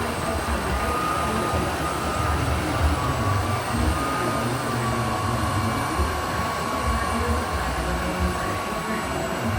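Wet-dry floor vacuum running steadily as it sucks up liquid and solid food spills like cereal and milk, a continuous dense roar of motor and suction with no breaks.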